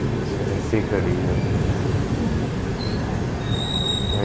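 A train arrives at Barkakana Junction railway station, with a loud, continuous rumble of rolling carriages and high metallic wheel squeals near the track. Faint voices sit under the noise.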